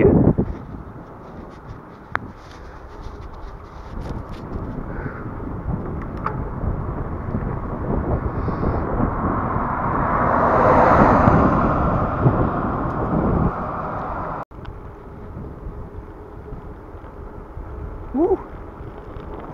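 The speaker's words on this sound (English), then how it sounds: "Wind's blowing pretty good." Steady wind buffets a microphone on an outdoor bicycle ride on a nippy, breezy day, a continuous broadband rumble that swells mid-ride with a brief dropout near the end.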